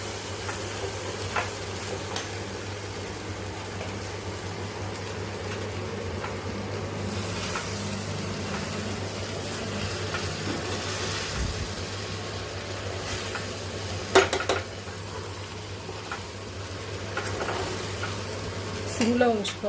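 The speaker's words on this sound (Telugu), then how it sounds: "ఇలా పల్లీల పౌడరు సాల్ట్ వేసాక ఒకసారి బాగా మిక్స్ చేసుకోవాలి." Sabudana khichdi with peanut powder and salt is stirred steadily in a hot pan, giving a soft continuous sizzle with scraping, and a brief louder clatter of the spoon against the pan near the end.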